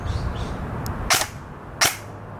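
EMG SAI GRY airsoft AEG rifle fired twice during a chronograph test, two sharp, close, loud pops about 0.7 seconds apart over low background hum, with a faint click before them.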